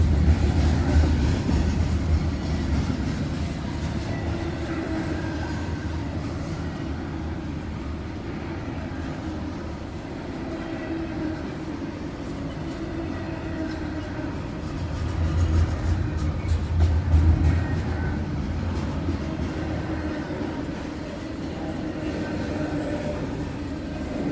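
A long BNSF freight train rumbles steadily past at a road crossing in Moreland, Georgia, with a low, continuous roar, swelling slightly midway, with faint clicking of wheels on the rails.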